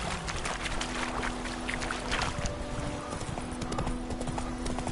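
Horse hooves clip-clop steadily in The Witcher 3 video game, a continuous rhythmic trotting mixed with ambient game sounds and low background tones throughout.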